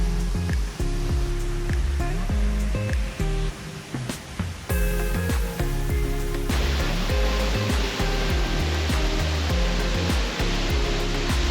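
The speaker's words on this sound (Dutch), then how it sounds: "Als je achter de waterval staat, dan kijk je de Kverknierkloof in, met op de voorgrond de Kverknefoss." Kvernufoss waterfall in Iceland roars from behind the falling water as a loud, steady wash of noise that grows stronger partway through. Background music plays underneath.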